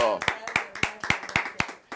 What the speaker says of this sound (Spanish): Abrazo, aplauso, aplauso, aplauso, aplauso